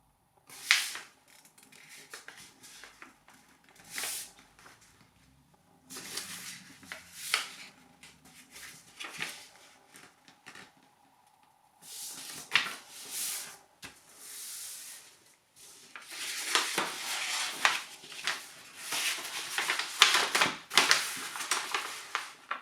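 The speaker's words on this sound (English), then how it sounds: "on the coloured side, we're going to fold the crease corner to corner, both ways" Coloured origami paper being creased corner to corner for an inflatable wheel, with crisp rustling and crinkling bursts in several separate bouts, quiet between and busier toward the end.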